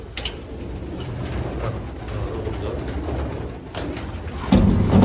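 Soft pigeon coos and bird murmurs fill an enclosed space over a steady low rumble, with a louder thump near the end.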